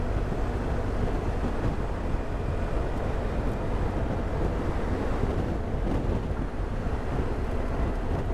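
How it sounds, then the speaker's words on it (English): Ocean waves breaking offshore near a sandbank in Orkney, a continuous broad surf roar mixed with heavy wind buffeting the microphone, with no people talking. "waves over there."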